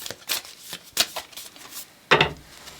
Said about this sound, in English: I'm shuffled, but I want to shuffle some more.